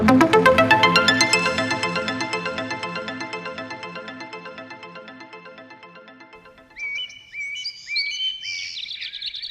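Little bird chirping, heard after a long descending series of bright ringtone-like chimes that fade out, then several quick, high chirps and tweets close by.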